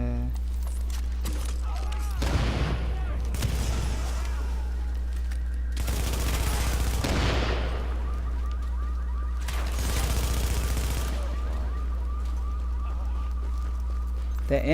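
Gunfire in The Division comes in three broad bursts of rapid shots amid game noise, with a steady low hum underneath and a person talking at times.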